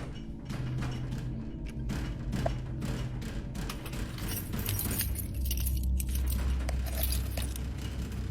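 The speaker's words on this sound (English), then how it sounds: "rushing to unlock the front door with his keys" A panicked man hurries to unlock the front door of a house, metal keys jingling and rattling continuously up close, with faint clicks and handling noises against a steady low background hum.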